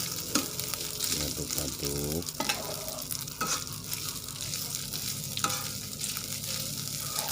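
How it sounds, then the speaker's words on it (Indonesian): White rice being stirred and tossed in a hot pan for nasi goreng, continuous scraping and sizzling with occasional louder clanks of the utensil, close and steady. "ini pakai nasi putih, aduk-aduk, diaduk-aduk"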